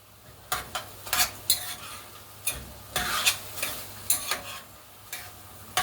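Chicken fried rice with sweet corn, Jamaican style, stirred in a pan: a series of sharp scraping and clacking strokes in an uneven rhythm over a low sizzle, close up, no voices.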